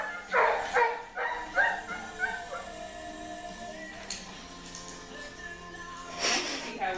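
A small dog yips and barks in a few sharp bursts near the start, with a fainter bark later, during play with a second dog named Ladybird.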